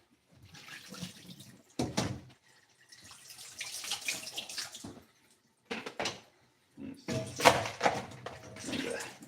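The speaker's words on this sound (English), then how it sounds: "we're just gonna wash our lettuce" Lettuce rinsed under a running kitchen tap, water splashing in bursts broken by short pauses, close and moderately loud.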